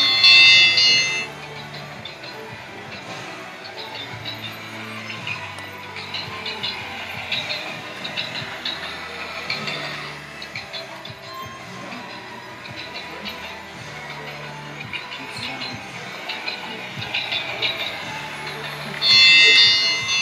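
Battery-powered, remote-control custom Warhammer 40k Land Raider toy train running, a faint mechanical whirr and rattling hum with bursts of bright high-pitched sound at the start and end.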